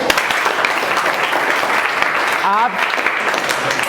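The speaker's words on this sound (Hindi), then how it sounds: "जोरदार तालियां अपने लिए बजा लीजिए।" A crowd gives itself a round of loud, continuous applause at a gathering, a dense wash of clapping that runs throughout, with a voice briefly heard over it.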